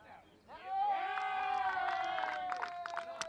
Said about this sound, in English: Big cheer fair from the Bohemians